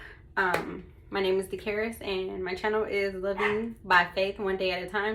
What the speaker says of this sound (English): If you hear my dogs in the background barking